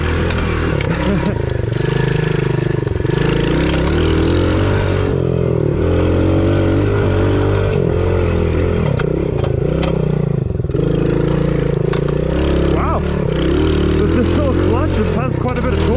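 A small dirt bike, one of the cheapest or priciest sold on Temu, runs on a trail with its engine still cold, droning steadily near and loud with rising revs and scraping clatter, while someone talks over it.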